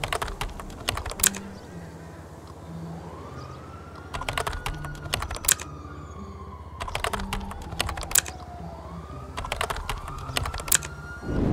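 Fast clattery bursts of typing on a PC keyboard entering a GTA 5 cheat code, several quick clusters of keystrokes separated by pauses, while in-game police sirens wail and a low tune plays in the background.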